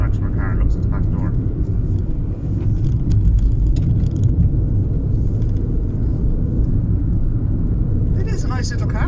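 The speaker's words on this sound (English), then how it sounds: "I don't like that engine, to be honest with you, only for the noise of it." A three-cylinder 1.0 MPI engine in a 2015 third-generation Skoda Fabia drones steadily with a low, rough rumble, heard close and continuous, with brief faint voices near the start and end.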